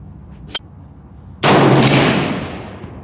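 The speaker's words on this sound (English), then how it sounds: "Alright, third shot." A single loud rifle shot from a TC Compass 6.5 Creedmoor fitted with a barrel dampener booms close by, then fades over about a second, preceded by a small click.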